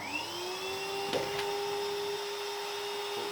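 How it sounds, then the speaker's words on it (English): A vacuum cleaner runs steadily over an abandoned 1950s engine, its motor whining at a high, constant pitch, with a couple of brief knocks and clatters as the nozzle bumps the metal. "I think we'll get the vacuum cleaner."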